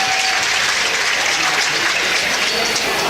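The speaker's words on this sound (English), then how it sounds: "Student section claps." Steady, loud applause from a student section at a high school girls varsity basketball game after a made free throw, filling the gym evenly with no talk over it.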